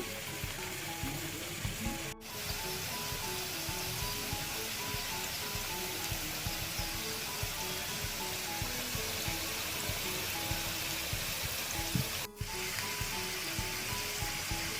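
Potato pieces deep-fry in oil over low heat for chilli potatoes, giving a steady, close hiss of sizzling that carries on unbroken apart from two brief dips, with no talking.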